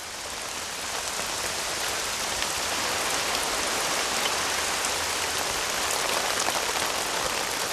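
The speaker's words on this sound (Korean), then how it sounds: "이내 예상대로 굵은 빗방울이 내리기 시작한다." Heavy rain pours down steadily and densely, a continuous loud patter on surfaces with no voices.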